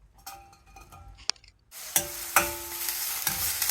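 Chopped onion hits hot oil in a pan, with a few light clatters first and then a steady broadband sizzle that swells as the onion is stirred, close and moderately loud with no talking.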